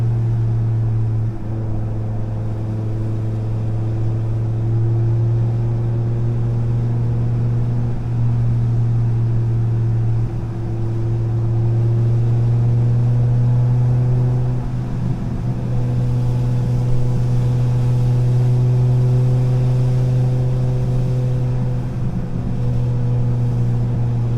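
A tuned BMW M5 E60 with a V10 engine pulls under throttle, a sustained strong engine drone whose pitch climbs gradually, loud and continuous, with no talking.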